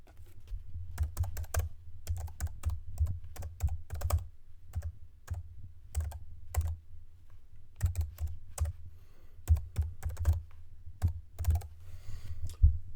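Steady typing on a computer keyboard, with close, crisp key clicks falling in quick irregular bursts and short pauses throughout.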